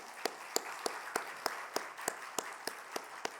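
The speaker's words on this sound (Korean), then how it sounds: "우리 하나님과 포내 선교팀께 감사와 영광의 박수 드리겠습니다" A church congregation gives applause for a mission team, heard as faint, evenly spaced claps in a steady rhythm, each one a sharp distinct hit against a quiet room.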